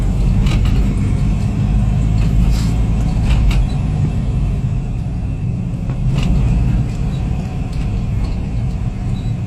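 A car cruises along a road behind a Toyota Avanza, a loud steady engine and tyre rumble with a few brief higher swishes of passing traffic.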